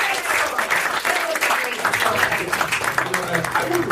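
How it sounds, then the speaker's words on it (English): A game show audience breaks into loud, steady applause, dense overlapping claps filling the room with a few voices mixed in underneath. "All right, give him a round of applause."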